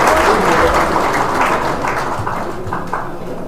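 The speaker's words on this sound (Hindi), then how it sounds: "जोरदार तालियों से स्वागत किया जाए।" Steady applause from a crowd at a public gathering welcoming a guest, dense and continuous clapping that fades slightly toward the end.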